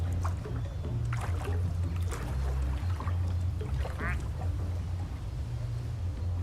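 A plastic duck in the video game Placid Plastic Duck Simulator quacks repeatedly over a steady low rumble of water and game ambience. The quacks come as several scattered, moderately loud bursts.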